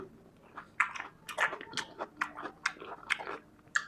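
Close, crunchy chewing of iftar food mixed with raw onion, with irregular bites and soft mouth sounds repeating over a few seconds and no talking.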